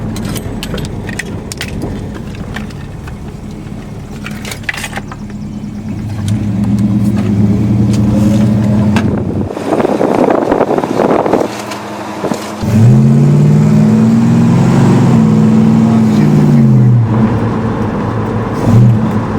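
A 1966 Plymouth Cuda engine heard from inside during a ride along, a loud steady rumble that swells as the car accelerates, with rising and falling revs through gear changes.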